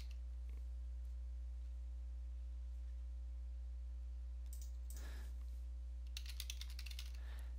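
A few soft keystrokes on a computer keyboard tap out a short word, faint and close over a steady electrical hum, with a quick cluster of clicks near the end.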